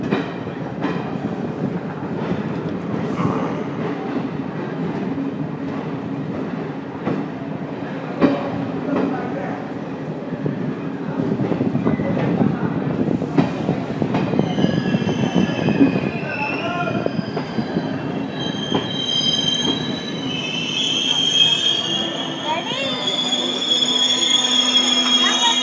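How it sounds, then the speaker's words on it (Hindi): A steam engine hauling a coal freight train rolls past, steady rumbling with squealing wheels and rail clatter building louder toward the end, with occasional voices nearby. "देखो अभी चलेगी ना इंजन दिखेगा"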